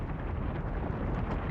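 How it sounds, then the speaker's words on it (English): Explosions from a villain's large-scale attack in an anime roll out as a dense, continuous rumbling roar, steady and loud, with no voices over it. "Explosions? What?"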